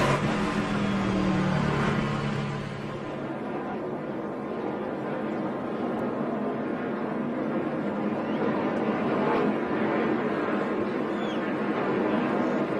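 NASCAR race cars at Charlotte roll behind the pace car under caution, a continuous mid-level engine drone with a crowd-like wash and no sharp peaks throughout.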